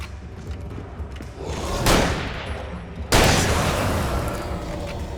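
Two heavy gunshot blasts from the Alan Wake video game, the first near two seconds and a louder one just after three seconds, each with a long decaying rumble over a dense low background.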